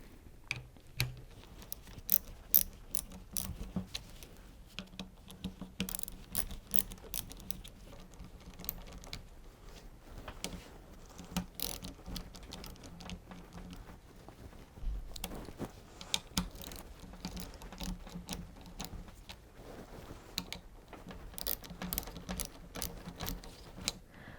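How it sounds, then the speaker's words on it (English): A tool works the motor bolts on a Karcher K4 pressure washer with a series of quiet, irregular clicks and ratcheting ticks. The bolts are loosened a little at a time in close succession, and no one speaks. "take turns to unscrew each bolt little by little so that you gradually loosen them all together"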